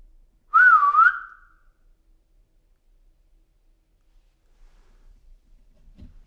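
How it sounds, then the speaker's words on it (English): A short whistled tune with a rising and falling pitch, clear and close, lasting about a second, followed by near silence and a faint thump at the end, in an abandoned building. "You could whistle like this."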